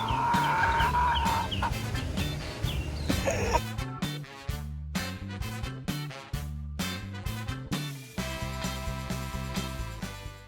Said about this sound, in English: There was even a chicken with a mohawk and feathery feet that wanted to be my friend so bad.